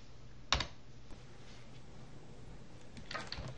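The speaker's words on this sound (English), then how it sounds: "And now I'm using the arrow keys" Computer arrow keys are pressed during coding work, giving a sharp near click at the start, a faint tap, then a quick cluster of soft keystrokes over a quiet hum.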